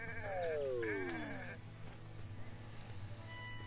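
Sheep in the video game Renowned Explorers give a few short, wavering bleats near the start, over a low steady game-music bed, followed by faint clicks and murmurs.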